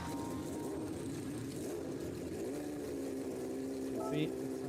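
A racing video game's F3500 car, a loose replica of early-1990s Formula One cars, its engine droning steadily with a rising, shifting pitch while a person talks over it.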